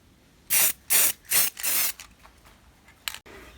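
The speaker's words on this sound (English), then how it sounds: "now I'm going to spray them with this satin gold" Satin gold aerosol spray paint applied to a homemade snooker cue stand, four sharp hissing bursts in quick succession, the last one longer, followed by faint handling clicks.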